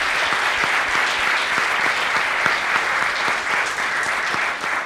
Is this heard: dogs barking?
no